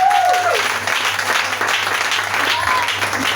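Congregation applauding and cheering in a church, a dense steady wash of clapping with a few whistles and shouts on top, continuing evenly throughout.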